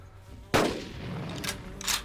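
A gunshot in Carnivores Dinosaur Hunt cracks loud and sharp at the outset, trailing into a rumbling tail, with two fainter bursts following later.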